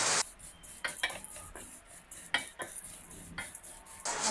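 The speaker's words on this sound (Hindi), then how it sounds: "अब देखिए मैंने 1 मिनट के लिए इनको रोस्ट किया, इनका कच्चापन खत्म हो गया।" Vermicelli roasting in a pan for sooji kheer, heard as repeated scraping stirs with a utensil against the metal, several strokes in steady rhythm over a soft sizzle, close and moderately loud.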